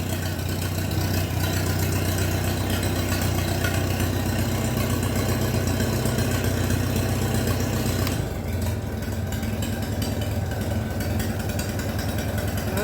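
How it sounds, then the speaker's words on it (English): A Minneapolis Moline tractor engine with its exhaust muffler removed runs steadily and loudly at idle close by, a constant low rumble with a slight shift in tone partway through. "That's what she sounds like without the exhaust."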